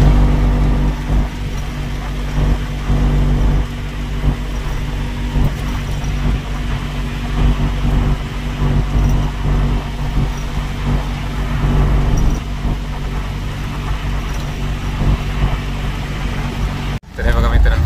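An auto rickshaw drives along a road toward a showroom, its engine a loud, continuous rumble heard from inside with traffic noise around. People talk during the ride.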